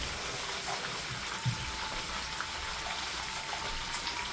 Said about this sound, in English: Now I'm going to add just a little bit of water in here.